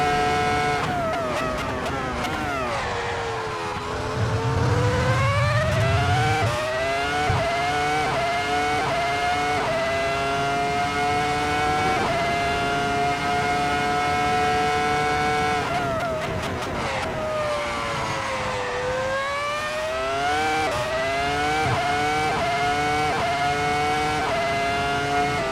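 A Ferrari race car screams around a track, its high engine note rising and falling steadily through gear changes, close and loud for the whole stretch.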